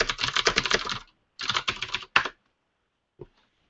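Someone types on a computer keyboard close to the microphone during a command-line OpenStack deployment demo: three dense bursts of rapid keystrokes separated by short gaps, then one lone click after a pause.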